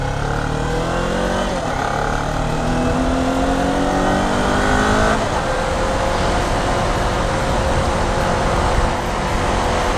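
A Kawasaki Ninja 400 with a 400cc two-cylinder engine rides on an evening road, its engine droning loud and close with rising and falling revs, a clear gear change midway, and steady wind rush beneath.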